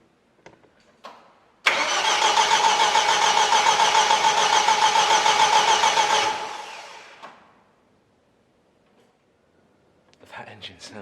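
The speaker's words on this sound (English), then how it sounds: "That engine sounded really good." An MGB Roadster engine cranks steadily on the starter during a compression test, with a loud, even churning rhythm lasting several seconds before stopping, followed by quiet and faint clicks.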